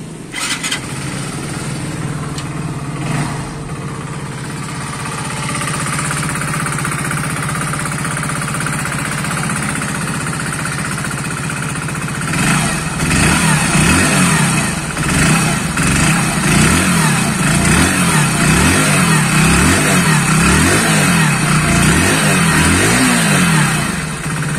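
A Hero HF Deluxe BS6 motorcycle engine starts after its first service and idles with a steady rumble, then revs up in repeated bursts, loud and close throughout.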